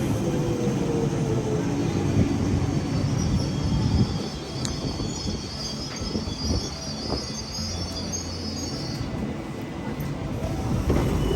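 A London Underground train rumbling steadily on the rails, with high metallic squeals and rattling carriages, a constant loud roar throughout.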